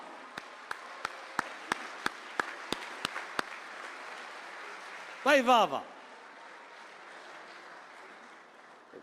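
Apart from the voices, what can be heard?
audience applause at Urdu mushaira in Dubai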